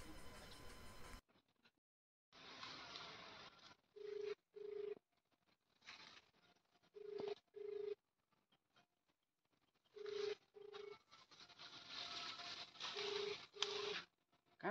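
An unanswered phone call gives a faint ringback tone, repeating double beeps at regular intervals through a hissy earpiece with gaps of silence between.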